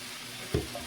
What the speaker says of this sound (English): I'm going to add a little bit more peanut oil. And I'm going to add all my veggies.